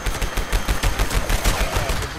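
The Pepper Shaker shotgun in Fallout 76 blasts away in rapid bursts, each trigger pull firing all barrels at once, giving a loud, dense, rhythmic volley of close gunshots with no speech.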